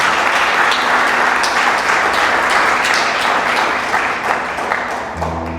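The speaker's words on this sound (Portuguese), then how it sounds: "Aplauda o Senhor." Church congregation applauding in a steady, full wash of clapping that holds throughout and eases slightly near the end, where a faint tone enters.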